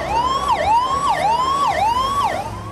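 Wailing ambulance siren in stopped traffic in Agra, the tone sweeping up and down in a steady repeating cycle, loud and close, with no talk over it.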